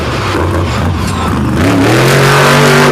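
A pulling truck on a PEI chassis with a Ford Super Duty body revs hard at an event, its loud engine note rising sharply and then holding a high, throaty pitch over crowd-level background noise.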